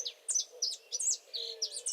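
Saffron finch song in the Mercedes countryside, a series of quick, high, sweet chirps and short warbled phrases in irregular bursts, clear and fairly close against a quiet background.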